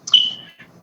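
An electronic alarm gives one short, high-pitched beep, close and clear, fading quickly with a faint second blip.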